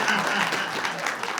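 An audience claps steadily through a Hindi comic poetry recital at a kavi sammelan, a dense, continuous patter of many hands filling the hall.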